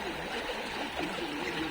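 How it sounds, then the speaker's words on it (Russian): Cold spring water flows steadily at the ancient site of Andriake near Demre, Turkey, a close, continuous rushing and burbling stream with no voices. "У источника совсем, да, капец, холодная вода?"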